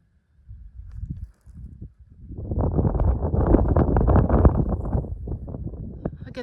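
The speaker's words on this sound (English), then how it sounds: "this wind is just" Wind gusting along the Appalachian Trail on a thru-hike, a soft low rush that starts faint and swells into a steady, fairly loud buffeting for several seconds before easing off.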